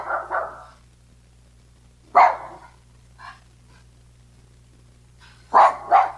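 A dog barks in short sharp bursts, two quick barks, a single bark, then another pair, fairly close against a quiet room.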